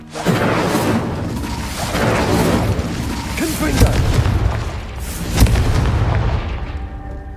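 In Hogwarts Legacy, the Incendio fire spell bursts in a series of deep booming blasts with whooshing tails, loud and close, spread across the moment with a voice speaking at the edges.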